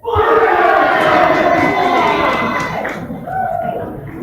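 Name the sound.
crowd cheering at a darts match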